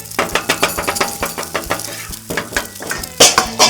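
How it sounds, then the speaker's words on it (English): Metal scraper clattering and scraping rapidly on a hot Blackstone griddle while mixing eggs, a quick irregular run of sharp metallic scrapes and taps close up, with faint sizzling underneath. "I just throw them down like that, and then I'll use my scraper here."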